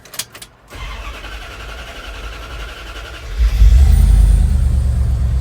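A few clicks and a cranking whir, then a 1993 Dodge Ram W250 pickup truck engine, with its catalytic converter cut off and open exhaust, catches and settles into a loud, rumbling idle.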